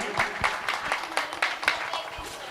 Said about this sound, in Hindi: आइए आप लोग ताली बजाएं।